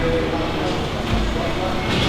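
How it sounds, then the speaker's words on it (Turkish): Vehicle brake tester running a rear brake test: a heavy, continuous low rumble of rollers and machinery, close and steady, with a brief surge in the middle. "Evet, arka fren testi uygulanıyor şu anda."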